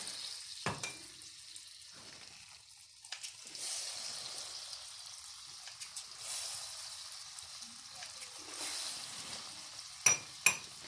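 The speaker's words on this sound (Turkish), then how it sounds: "Şimdi lokmalarımızı dökeceğiz." Lokma dough frying in a pan of hot oil in a home kitchen, a steady soft sizzling hiss with occasional clinks of utensils and two sharper taps near the end.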